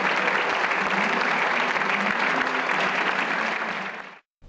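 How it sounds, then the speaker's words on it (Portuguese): Mourners at a funeral chapel, gathered before a cremation, give a sustained round of applause, a dense, steady clapping from a crowd that carries on evenly before stopping abruptly. "todos que estavam na capela aplaudiram numa última homenagem"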